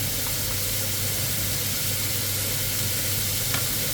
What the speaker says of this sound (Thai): แล้วก็ใส่พริกลงไปค่ะ